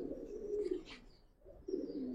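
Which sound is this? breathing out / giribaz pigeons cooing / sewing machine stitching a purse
giribaz pigeons cooing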